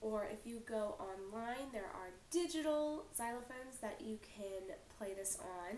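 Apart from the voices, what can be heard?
No distinct noise like a dog, phone or traffic.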